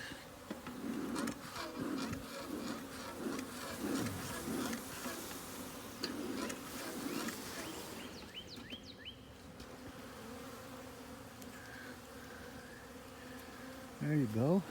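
Honeybees buzz around an open hive during an early spring inspection, a dense, wavering hum with individual bees droning past nearby, fairly faint, with occasional soft handling knocks.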